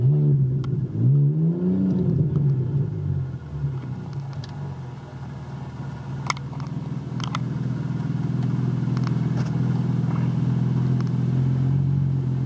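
A 2013 Ford Taurus Police AWD engine being revved on the gas: a steady, close rumbling idle that rises and falls with throttle blips early on, then holds a loud, even drone, with no talk.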